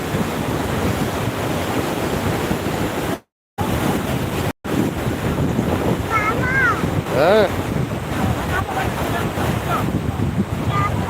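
Rough high-tide surf at Mandarmani beach in the morning: a continuous, loud wash of breaking waves under heavy wind buffeting on the microphone, with two brief dropouts and a few faint whistling tones near the end.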